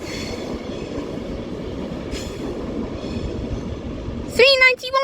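Avanti West Coast Class 390 Pendolino electric train departing London Euston, a loud steady rumble of wheels and motors close by, with a sharp wheel squeal near the end.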